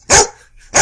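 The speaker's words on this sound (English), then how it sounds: "And I shall call him Pizza Dog." A dog gives two loud, close barks spaced apart, each short and sharp, with silence between them.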